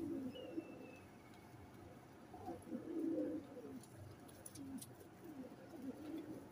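Pigeons coo softly in a quiet indoor or loft setting, low rolling calls repeating faintly throughout with a little background noise.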